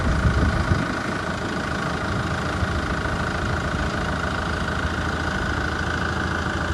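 A new tractor-mounted farm implement runs steadily alongside the tractor engine, giving a continuous loud mechanical drone with a low rumble, slightly heavier at the very start, and no talking.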